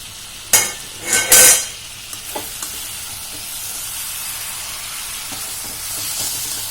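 Ridge gourd stir-fried in a pan, with a few loud scraping stirs early on, then a steady soft sizzle that keeps on alone.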